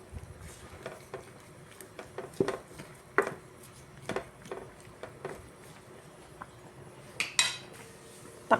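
A utensil clinks and scrapes against a cooking pot while vegetables are stirred, sharp irregular metallic knocks spaced through the stretch, fairly close and alone without talk.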